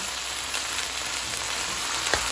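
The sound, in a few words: water poured into pan of cooking sardines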